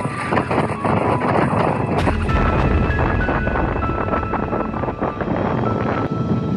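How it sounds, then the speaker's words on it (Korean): Strong, cold mountain wind at high altitude batters the microphone in a continuous loud rumbling roar with gusty surges throughout, and no voice is heard. "날씨는 진짜 미친 듯이 맑은데 바람 때문에 지금 녹음이 될런지도 모르겠어요"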